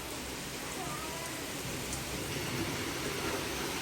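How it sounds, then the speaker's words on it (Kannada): Heavy rain pours down in a dense, constant hiss with no breaks, loud and close, filling the whole stretch, amid thick fog. "ಫುಲ್ಲು ಜೋರ ಐತಿ ಮಳೆ."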